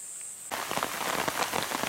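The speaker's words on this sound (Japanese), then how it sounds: "雨です。" Steady rain starts suddenly and falls on the surroundings of a wooded mountain trail during an afternoon thunderstorm, a dense close patter of drops heard alone after a brief quiet start.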